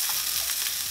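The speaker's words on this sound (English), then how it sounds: "You're gonna hear some sizzle." Onions and bell peppers sizzling in a screaming hot pan, a close, steady hissing fry with faint stirring over a short moment, no voices.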